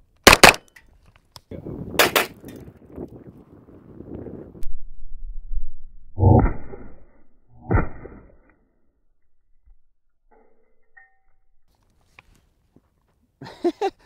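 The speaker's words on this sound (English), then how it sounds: "Now we're doing 9mm out of this CZ Scorpion." Sharp 9mm gunshots from a CZ Scorpion fired at metal-shaving body armor outdoors, several loud cracks spread across the clip, some in quick pairs, with wind and faint movement between shots.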